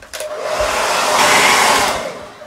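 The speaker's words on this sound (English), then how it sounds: "Oh, where did my hair dryer go?" A hair dryer switches on and blows with a loud, steady rushing roar for a couple of seconds, then winds down.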